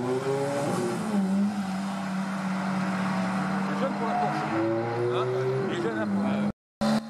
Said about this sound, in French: Encore une 911, cette fois-ci une 996 Turbo.